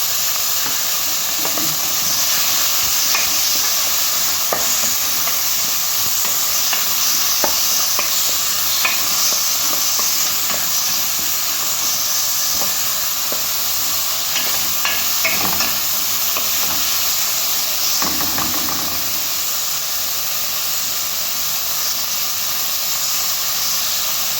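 Mung beans sautéing in a pan for ginisang monggo are stirred steadily, with a constant loud sizzle and hiss and scattered spoon scrapes and clicks throughout.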